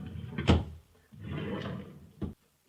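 A wooden drawer in a baby's clothes closet slides open with a close, solid scrape and knock, followed by a brief softer bump.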